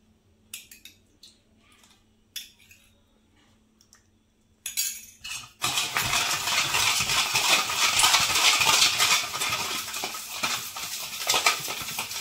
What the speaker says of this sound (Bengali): যতক্ষণ চিনিটা না গলবে ততক্ষণ এরকম আমাকে ফেটাতেই হবে